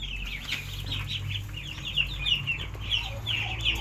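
Chickens clucking while eating feed, a flock of overlapping close clucks and chirps repeating steadily, with low background rumble and no speech.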